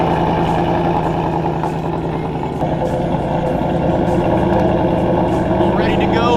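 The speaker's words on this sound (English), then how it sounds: "hop inside the car real quick and get a little bit of a cold start" A supercharged Ford Mustang with a Whipple blower cold-starts and settles into a loud, rough idle close by, a deep continuous rumble with a shift in tone partway through.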